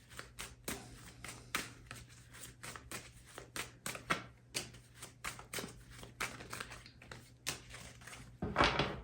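Tarot cards are shuffled by hand close up in a quiet room, with a rapid series of soft slaps, riffles and flicks in uneven bursts.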